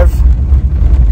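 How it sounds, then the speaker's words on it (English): Low, steady engine and exhaust rumble from a Subaru car with its catalytic converter removed, droning continuously through a short stretch with an indistinct voice-like sound near the start. "The car sounds a little bit better with the CAT Delete."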